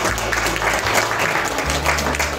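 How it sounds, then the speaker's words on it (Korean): Brief burst of steady applause from an audience at a year-end award ceremony in a hall, with a low electronic hum running beneath the clapping. "큰 박수 부탁드리도록 하겠습니다."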